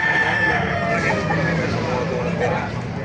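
A rooster crows amid the busy hubbub of a crowded chicken market in Baliuag, Bulacan, with clucking fowl and people bargaining in the background.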